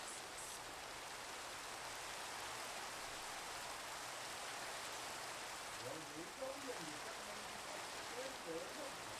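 Steady Minecraft video game rainfall hisses evenly throughout, and a voice speaks briefly over it near the end.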